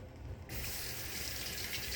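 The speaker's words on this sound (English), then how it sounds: "Get a little bit of water." Water runs steadily from a tap into a bathroom sink while a handlebar moustache is rinsed, starting abruptly after a brief quiet moment and continuing as a close, even gush.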